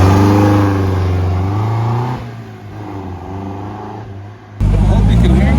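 A 1961 MGA 1600 roadster with the roof down, its engine running steadily at a low, loud drone before a sharper rev near the end; a person talks over the engine noise.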